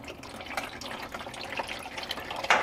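Oil draining from a VW Beetle engine during a yearly service, a steady trickling, dripping liquid flow heard close up with occasional splashes, no talking.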